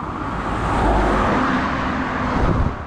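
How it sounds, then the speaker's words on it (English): Heavy road traffic near a truck on the road, a dense, steady rumble of passing vehicles swelling and easing slightly throughout, with no voices. "Here is heavy traffic."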